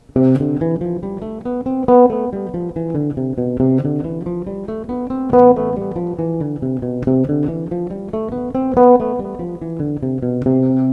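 A bass guitar plays a flowing line up and down the neck, with certain notes struck noticeably harder than the rest, heard alone and close.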